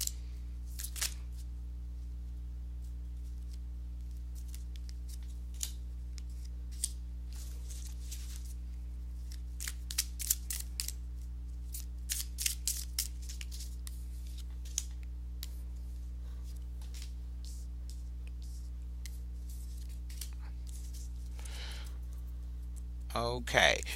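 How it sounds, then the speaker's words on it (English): Tarot cards being shuffled by hand, a long run of soft papery riffles and flicks in irregular bursts over a steady low electrical hum, with a louder rustle near the end. "let me go ahead and give these cards a shuffle"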